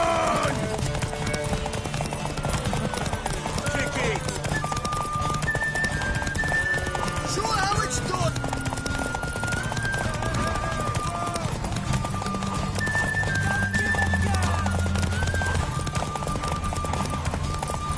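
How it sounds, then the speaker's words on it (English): A horse gallops in the video game The Witcher 3, with fast continuous hoofbeats under a busy game soundscape of voices, music and steady background noise. "Want that horse, don't ya?"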